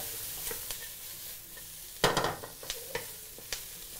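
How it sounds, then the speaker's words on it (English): Four cloves of chopped garlic fry over medium-low heat in a pan for Singapore-style rice noodles, soft sizzling broken by a burst of stirring scrapes and a few light utensil taps, nearby and without speech. "4 cloves of garlic chopped, put it in. Still stir them around. We just fry them until they are fragrant."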